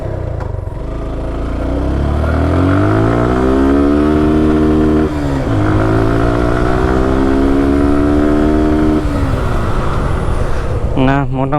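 A used Suzuki Gixxer Monotone motorcycle is test ridden, its engine close and loud, climbing steadily in pitch, dipping once at a gear change, then holding a sustained drone.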